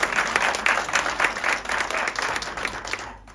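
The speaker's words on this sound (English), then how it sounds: "Surely Mengwenya deserves a warmer round of applause" A crowd applauds steadily for a few seconds, with dense, even clapping that fades out at the end.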